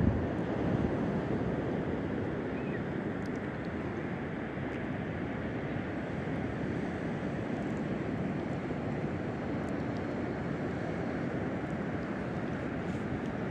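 Ocean surf washing steadily onto an eroded stretch of Daytona Beach, Florida at high tide, a loud continuous roar mixed with wind buffeting the microphone.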